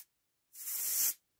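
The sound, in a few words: air blowing on a lawn mower part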